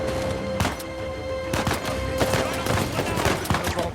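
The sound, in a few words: gunfire in video game Uncharted 4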